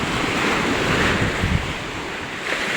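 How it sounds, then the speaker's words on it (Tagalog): Heavy surf crashes continuously with a loud, broad roar, wind buffeting the microphone throughout. "Napakalakas ho ng alon."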